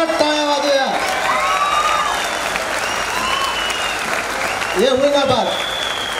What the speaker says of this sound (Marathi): सगळ्यांनी उभं राहून जोरात टाळ्या वाजूया.